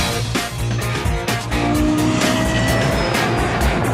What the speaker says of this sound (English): The LFA is accelerating.